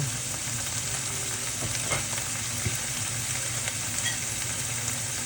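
Fish roe stir-fried with holy basil sizzling steadily in a hot pan, a dense continuous frying hiss with a few faint scrapes and clinks, no talking.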